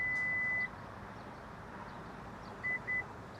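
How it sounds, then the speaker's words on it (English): Three electronic beeps from a Honda SUV setting its power tailgate height sound close by: one long tone, then after a pause two short ones in quick succession, over a low steady hum. "You're going to hold the button down and listen for the beeps."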